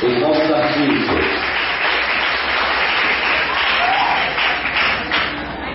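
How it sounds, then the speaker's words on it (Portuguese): Loud, sustained applause from an audience cheering student artists at the Colégio Normal São Pedro school event in Macarani, Bahia, a dense wash of clapping that fills the whole stretch, with some voices mixed in early on. "Vamos aplaudir os nossos artistas."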